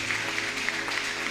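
Church congregation clapping to welcome visitors, a dense steady wash of many hands applauding together, loud and continuous throughout.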